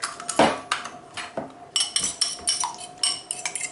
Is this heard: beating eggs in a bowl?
yes